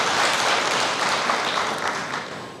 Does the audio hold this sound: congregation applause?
yes